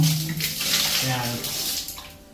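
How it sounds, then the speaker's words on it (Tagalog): Water poured onto a shower floor in a Bacolod house, a steady close splashing wash that runs continuously, while a person talks over it. "Binubuhos natin sa sahig."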